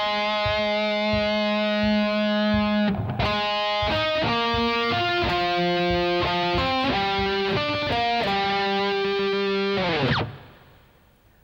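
A distorted electric guitar plays the lower harmony line of a song: a held note, then a quick stepping melodic phrase of picked notes, loud and close, ending in a ringing decay.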